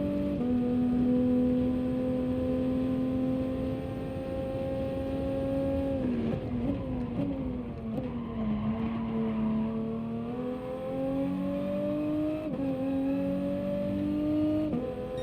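Racing cars in the Gran Turismo GT touring car championship on the Sardegna and Dragon Trail circuits drone steadily at high revs close by, the pitch dipping and climbing through gear changes, with no voices over it.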